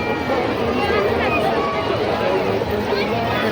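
Dense crowd packed at a temple on Mahashivratri, a steady wall of babble and shuffling with voices talking close by throughout.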